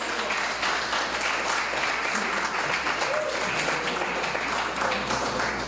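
Steady audience applause at an after-school enrichment awards ceremony in Trinidad, a dense, continuous wash of many hands clapping at moderate distance, heard alone without talk.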